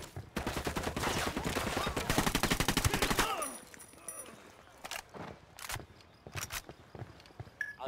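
Rapid automatic gunfire in the video game Ghost Recon Wildlands, with dense sustained bursts for about three seconds, then scattered single shots and short volleys, loud and close.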